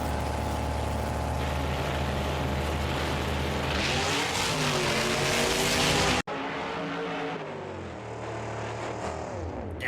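Monster trucks Bustin' Loose and Knucklehead roar through a final race at Lamar, Missouri, engines loud and continuous, rising in pitch as they accelerate, then cutting abruptly to a quieter, more distant engine drone.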